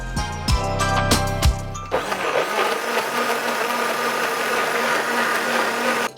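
A brief tonal hum gives way to a blender whirring loudly and steadily for several seconds before cutting off.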